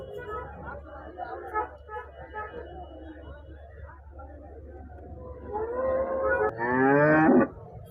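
An HF or Jersey cow lets out a long, deep moo near the end at a cattle market, after a stretch of low murmuring and background noise.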